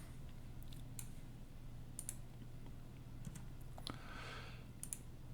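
Keys on a computer keyboard tapped in sparse, irregular clicks, quiet and close against a faint steady hum, with no speech.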